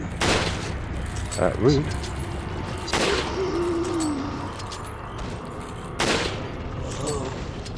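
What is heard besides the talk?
rifle shots in Resident Evil 4 video game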